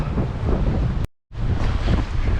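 Strong wind by a bridge while fishing buffets the microphone with loud low rumbling gusts, cutting out briefly to silence midway before roaring back.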